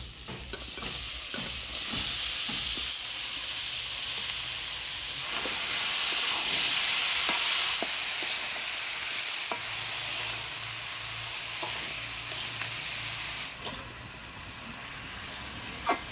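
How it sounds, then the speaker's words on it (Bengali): Vigorous frying sizzle as bottle gourd is stirred with spices in oil, with repeated scraping and stirring clicks of a spoon against a pan, continuous and close, no talking. "মশলা দিয়ে ভালো করে নাড়াচাড়া করে নিলাম"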